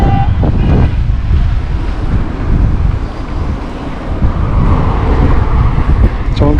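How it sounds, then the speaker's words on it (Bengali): Strong wind gusting at Patenga sea beach in Chattogram, a loud, steady broadband roar with buffeting on the microphone and possible surf underneath, continuous throughout. "চমৎকার বাতাস আছে, যার কারণে রোদটা শরীরটা তত লাগছে না।"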